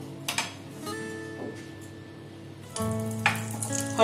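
Asafoetida dropped into hot oil in a kadhai for a Maharashtrian seer fish curry, a close, quick sizzle and crackle that swells after a quieter start, with some clinking in between.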